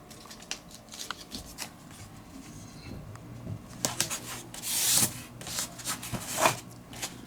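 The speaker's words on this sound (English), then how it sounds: "Then another piece of tape to back it up." Tape being pulled and pressed to join foam wing pieces for a model aircraft, close crinkly rubbing and tearing bursts with a louder ripping peak near the end, quiet and without speech.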